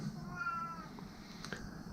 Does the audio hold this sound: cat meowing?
yes